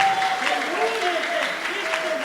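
A church congregation claps together in worship, a continuous wash of applause with voices rising over it and a faint tone running underneath.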